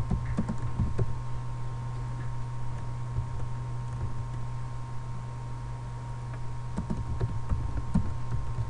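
Someone typing Java code on a computer keyboard, with clusters of quick key clicks and pauses, close and moderately quiet over a steady electrical hum.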